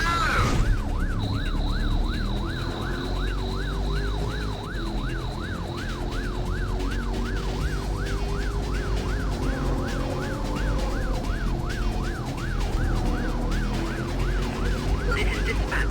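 A police car siren during a pursuit in Need for Speed: Road Challenge on PlayStation, rapid rising and falling wail repeating steadily over a constant engine roar, loud and close.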